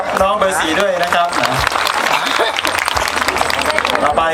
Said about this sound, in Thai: ปรบมือให้กับน้องเบอร์4ด้วยนะครับ